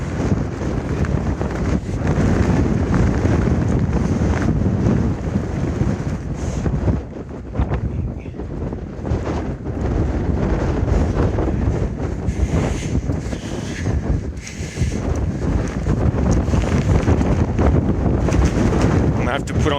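Strong wind buffeting the microphone at Rainbow Point on the Hayduke Trail, a continuous loud roar with gusty swells and brief voice fragments underneath.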